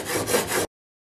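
A steel plane blade from a Record No 078 plane is rubbed on worn 400 grit sandpaper in three close, rasping back-and-forth strokes, then stops into silence.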